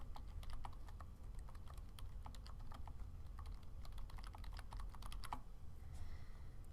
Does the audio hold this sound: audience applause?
no